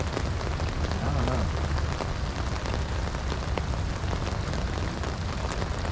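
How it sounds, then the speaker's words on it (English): Steady rain falling on a riverbank during a Hudson River fishing trip, a loud, dense, unbroken hiss of drops that stays even throughout with no speech. "Rain."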